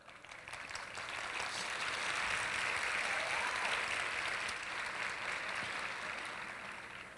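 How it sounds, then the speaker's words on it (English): A crowd claps steadily for several seconds, swelling then tapering slightly, with no talking over it. "can we get a quick round of applause for our volunteers"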